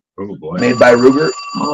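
An old corded push-button landline phone rings steadily in the room while someone talks over it.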